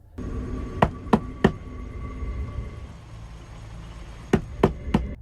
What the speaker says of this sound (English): Out of nowhere, 2 loud knocks echoed through her van.